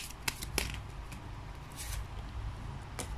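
Tarot cards are shuffled by hand during a love reading, giving a soft papery riffle with a few sharper flicks and snaps. The sound is close and continuous over a low background hum, with no talk.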